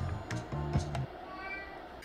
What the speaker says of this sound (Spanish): Si estás ahí, di miau.